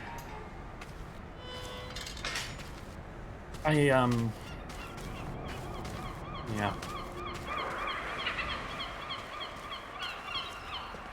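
Gulls call in the video game Broken Pieces, repeated honking cries over a constant ambient bed, one loud close call standing out midway, while a voice briefly speaks.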